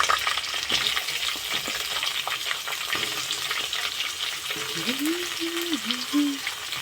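Chopped onions frying in a pan for an egg tomato curry, a loud, close, continuous sizzle with faint stirring, and a brief hum or voice near the end.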